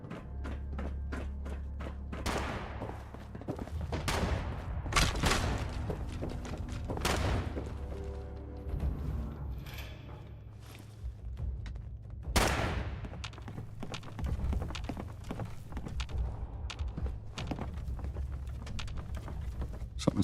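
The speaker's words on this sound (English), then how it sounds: "Something's still shooting at us?" Bursts of gunfire and heavy booms in the video game Fallout 76, repeated volleys and thuds layered with game ambience, fairly loud and close with no talking over them.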